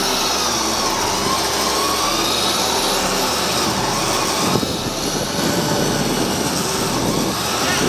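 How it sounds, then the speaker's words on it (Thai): A Hi-Winch X-18000 30-ton electric winch hauls a ten-wheel truck up onto a tractor unit, giving a loud, steady motor drone that holds without a break for the whole stretch. "เสียงวินดีมากเลยครับ ไม่มีปัญหา"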